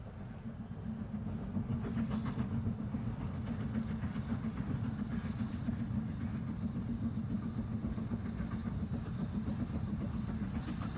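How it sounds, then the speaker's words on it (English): A steam locomotive hauls a train on the North Yorkshire Moors Railway, cresting the steep 1 in 49 climb from Grosmont to Goathland; a steady, loud, rolling rumble of engine and wagons carries on without a break. "Here, the engine is seen at the top of the severe gradient at 1 in 49 from Grosmont to Goathland."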